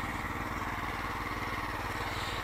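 Neva walk-behind tractor with F-122 tires plowing on a raised first gear at above-medium throttle, its small engine running with a steady, even putter throughout.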